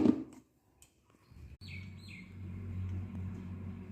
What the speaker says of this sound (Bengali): পাখির ডাক শোনো, কিচিরমিচির কিচিরমিচির করছে